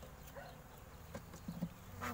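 Honeybees buzzing steadily across hive frames during an apiary inspection after autumn feeding, following the heather harvest; a soft, continuous hum at close range with a few brief louder swells and light handling noises.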